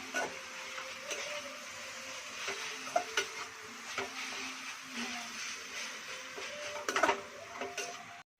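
Egg bhurji stirred in a hot pan, a spatula scraping and tapping at an uneven pace over a steady low sizzle, with a cluster of sharper clatters near the end.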